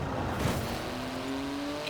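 A Porsche GT2 RS with a titanium exhaust, driven in the racing game Forza Horizon 4, gives a loud, close, sustained engine roar whose pitch climbs steadily as it revs.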